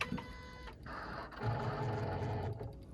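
A Ford Focus ST250 engine turning over on the starter while the fuel pump is re-primed after a cam follower change, a steady whirring crank of about three seconds with a brief pause.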